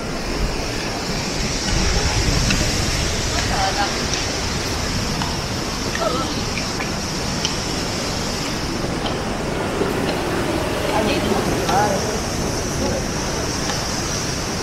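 Ocean surf rushing in on a beach at San Antonio, Chile, a broad continuous wash of breaking waves under occasional voices nearby.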